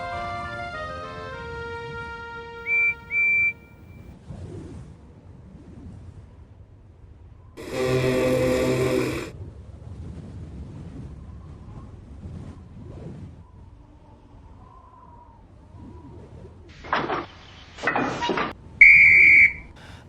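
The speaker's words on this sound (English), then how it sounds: "The guard blew his whistle" A railway guard's whistle gives two short, shrill toots early on and another sharp blast near the end at a snowy station, with a frosty wind gusting and rumbling between them.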